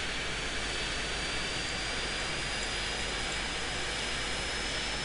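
A cargo plane's jet engine roars steadily and loudly at an airport gate in Airport Simulator 2014, a continuous broadband rush with no voices.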